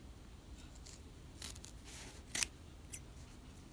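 Scissors clip the corner of sewn fabric piping: a few quiet, crisp snips close by, one sharper cut in the middle, over faint room noise.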